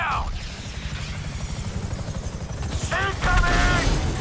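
Helicopter being shot down during a rooftop heist shootout in GTA 5: a heavy, continuous rotor thrum with scattered gunfire and mechanical crunches, rising into a louder crash-like surge near the end.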